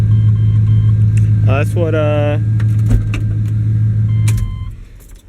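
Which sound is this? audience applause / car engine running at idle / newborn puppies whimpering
car engine running at idle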